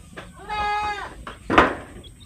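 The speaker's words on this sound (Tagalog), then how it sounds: "Ayan mga kambing natin oh. Matataba pa rin kahit na tag-ulan oh." Boer goats on a farm bleat close by, one long wavering call followed by a shorter, harsher bleat, with quiet farmyard background.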